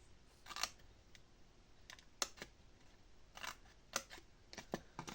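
Scissors cut paper for a scrapbooked tissue box, producing several crisp, close snips spread a second or so apart over a quiet room tone.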